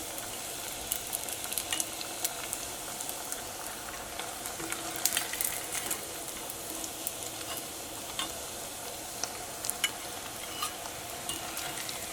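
Beef pieces for chilli beef frying in hot oil, a steady crackling sizzle with scattered sharp pops and faint stirring, close and moderate in level throughout, no talking.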